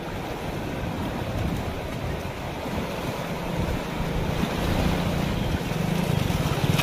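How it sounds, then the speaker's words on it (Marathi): Rushing, churning floodwater waves roar continuously over a bridge in Parbhani, India, with heavy wind buffeting the microphone throughout. "हे बघा या लाटा"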